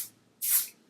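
Dior Airflash spray foundation sprayed onto a face, a short close airy hiss lasting about a third of a second, preceded by the faint tail of an earlier spray.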